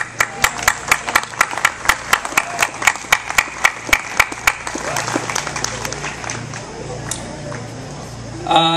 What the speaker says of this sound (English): I'd like for you to give yourselves a big round of applause